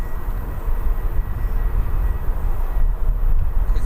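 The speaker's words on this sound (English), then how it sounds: "we've got an EasyJet departing as well" An EasyJet airliner departs from Birmingham Airport, a loud, close, low engine roar rumbling steadily throughout the short stretch.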